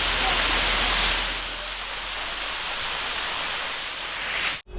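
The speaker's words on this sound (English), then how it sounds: "here we are to experience this waterfall." Amboli waterfall in monsoon roaring as a dense, continuous broadband rush, loud and close, steady throughout before cutting off abruptly at the end.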